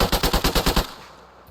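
An AK-47 in the Arma 3 video game rattles off a rapid burst of about seven shots in even rhythm, loud and close, then fades into a brief echoing tail.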